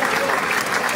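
Audience applause fills a shopping-centre stage event marking its 15th anniversary in Reggio Calabria: dense, steady clapping from a crowd, loud and continuous for the whole second.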